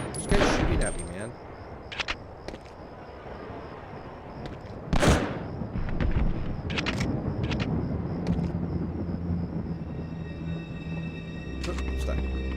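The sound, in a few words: gunfire from enemy in video game Medal of Honor: Underground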